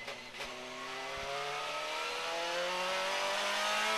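DTM touring cars race through a fast corner at the Nürburgring in 2000, engines revving hard with rising pitch as cars pass close by, loud and steady with a brief tire squeal early on.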